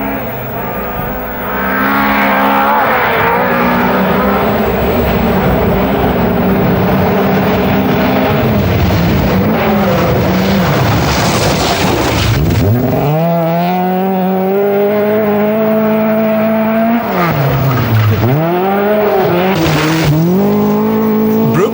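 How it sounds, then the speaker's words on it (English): A Rothmans Opel rally car at the 1982 Scottish Rally roars loud and close from a forest stage, engine revving hard with gear changes and tire noise, the pitch swooping up and down as it passes. "out of the forest came Henry Toivonen in the other Rothmans Opel"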